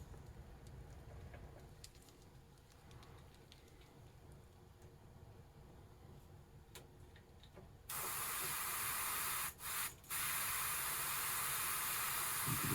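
An aerosol spray can hisses loudly and evenly as a bass guitar body is painted, one long burst with a short break, after a stretch of quiet handling noises.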